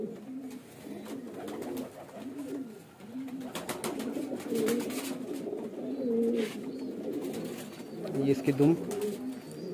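A large pigeon coos in low, repeated throaty phrases close by, with someone talking over it throughout.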